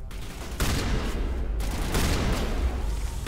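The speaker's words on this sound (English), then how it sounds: "You know what I'm going to do is switch to the shotgun." A shotgun fires in the video game Mass Effect: heavy blasts over a continuous din of battle, two strong bursts standing out near the start and again in the middle, loud and close.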